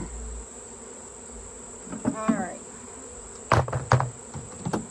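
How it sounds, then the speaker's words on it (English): Honey bees buzz steadily around an open hive during a honey harvest, a constant faint drone broken by scattered clunks of handled equipment, with a brief spoken remark. "Let me make sure the bees are out of here, though."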